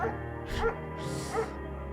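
A German Shepherd in the video game Firewatch gives two or three soft barks, fairly quiet and set over a continuous musical bed.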